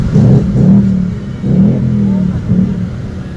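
A 5-liter V8 car engine revs three times in a row, each a loud, close, throaty surge that rises and falls back, with no talking.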